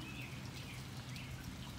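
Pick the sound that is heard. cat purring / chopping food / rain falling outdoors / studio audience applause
rain falling outdoors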